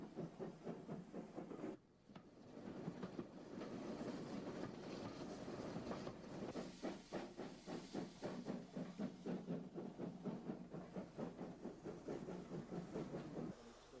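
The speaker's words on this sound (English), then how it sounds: "the boat train coming through on the main line" A steam-hauled boat train runs along the main line, its loud rolling roar and rhythmic wheel clatter building steadily and holding close for the length of the pass.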